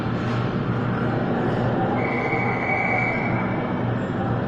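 Low rumble of a nearly empty train at Wynyard station in Sydney, with a drawn-out metallic squeal rising partway through over a constant mechanical hum.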